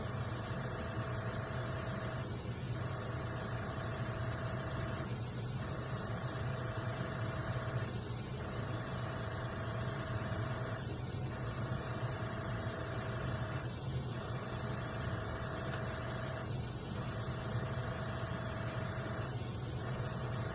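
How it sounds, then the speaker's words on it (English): An airbrush spraying alcohol ink onto a flower painting, a constant close hiss with a low hum beneath, broken by faint regular pulses about every three seconds, no voices. "I'm barely moving my airbrush until I see it drying up."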